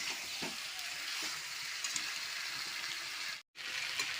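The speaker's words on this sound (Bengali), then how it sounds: "মটন আর মশলা আলু একসঙ্গে করছি, আরও কিছুক্ষণের জন্য কষবো।" Mutton with spices and potatoes fries in a pan with a soft, continuous sizzle and occasional stirring scrapes, fairly quiet and broken by one brief silent gap near the end.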